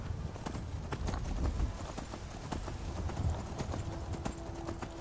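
Horse hooves clip-clop at a steady trotting rhythm in the video game Skyrim, close and continuous over a low ambient game backdrop.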